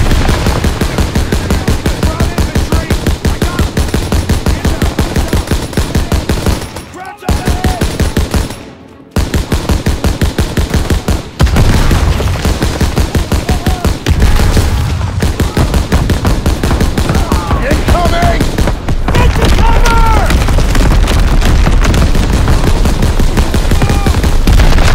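Loud, dense automatic and rifle gunfire fills a Call of Duty: WWII battle against SS troops, rapid bursts firing almost without pause, with a brief lull and shouted commands barely audible beneath the shooting.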